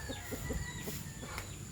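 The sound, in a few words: rooster crowing and clucking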